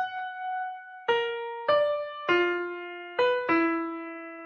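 A bowed violin carries the second violin part from Tchaikovsky's Sixth Symphony, six sustained notes with distinct attacks that step downward and back, close and unaccompanied.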